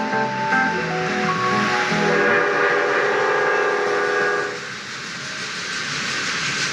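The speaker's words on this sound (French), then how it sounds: "Plus de 100 enfants attendaient de voir passer ce train à vapeur historique d'Angleterre." Historic English steam train passing a crowd, a loud whistle with layered steady tones sounding for several seconds over rumbling movement, then cutting off to leave a broad continuous rushing roar.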